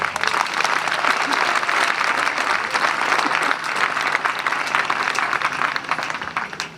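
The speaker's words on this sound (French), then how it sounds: "Je voudrais qu'on l'acclame encore." Steady, dense applause from an audience at the opening ceremony of a 2018 youth camp in Guiglo, filling the whole stretch with continuous clapping and no voice on top.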